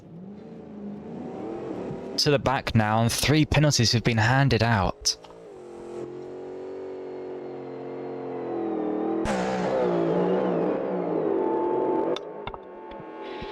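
Race car engines in a GT World Challenge sim-racing event at Spa rev hard and drone steadily, with sharp rising bursts and gear changes, heard under a continuous commentator's voice.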